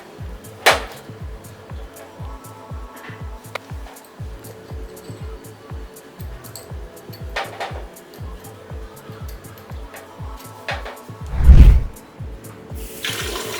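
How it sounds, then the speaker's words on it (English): Water runs from a Kohler kitchen faucet into a sink, a soft steady flow heard close, with clicks and taps scattered through it and a louder thump near the end. "Finish up by running water and checking for leaks."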